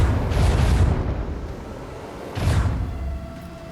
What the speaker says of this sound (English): Macro cannons! Annihilate them!